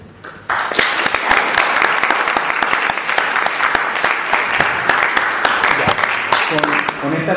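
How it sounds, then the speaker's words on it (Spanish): Audience applause closing a seminar on psychiatric medication, starting abruptly after a quiet moment and continuing as a dense, loud, sustained clapping with a few voices mixed in. "Con este aplauso vamos a cerrar el seminario."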